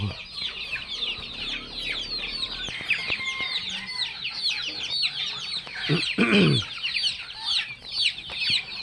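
Chicks and chickens cluck and peep from cages in a rural yard, a dense, steady chatter of many birds close by, with a few louder calls near the middle and no talk.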